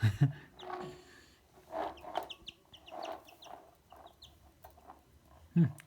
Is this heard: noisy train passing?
no